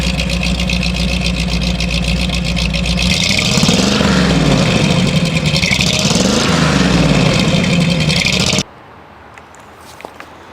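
A rusty Ford Bronco engine, hot-wired, idles loudly close by, then revs up and down in a few surging swells before cutting off abruptly, leaving near silence with faint clicks.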